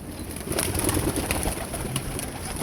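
A large gathered flock of pigeons cooing continuously, a dense, close burble of overlapping calls with no speech.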